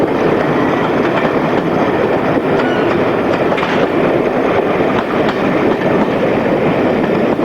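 Three British Rail Class 50 diesel locomotives depart Newton Abbot close by, a steady heavy roar of engines with rhythmic wheel clatter throughout.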